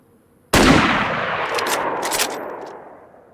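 A single loud rifle shot rings out in DayZ, with a sharp attack that decays into a long echoing tail. A few quieter crackles follow while the reverberation fades.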